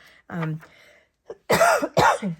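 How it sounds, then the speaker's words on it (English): Two loud, harsh coughs close to the microphone after a few softer throat sounds, in a quiet room. "So sorry, excuse my cough."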